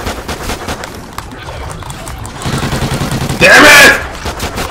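Gunfire from the co-op shooter Call of Duty: Ghosts Extinction, a mix of steady game shots and clatter climaxing in a loud sharp burst near the end, heard under two excited players talking over it.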